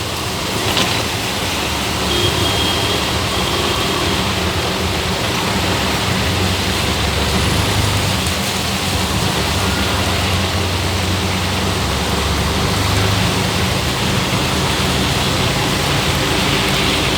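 Heavy rain pours over flooded Gurgaon streets with traffic, making a loud, dense, continuous hiss of rain and water with a low engine drone underneath throughout.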